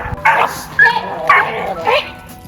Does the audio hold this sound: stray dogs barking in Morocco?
yes